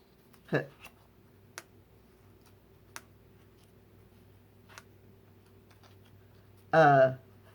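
A magnetic envelope flap on a handmade file folder flip book sets down with one crisp click, followed by a few faint ticks; a short burst of voice comes near the end.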